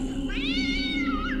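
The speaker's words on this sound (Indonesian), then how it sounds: "aku mendengar suara kucing" A single cat meowing loudly at night, one long rising-and-falling wail heard close and clear over a low steady hum.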